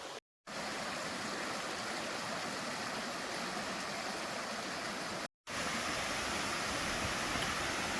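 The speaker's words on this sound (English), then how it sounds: "So we're already at our first waterfall." A waterfall in Gorpley Clough Nature Reserve, a wooded ravine near Todmorden, roars as a steady, dense rush of falling water, close and loud, broken only by two brief cuts.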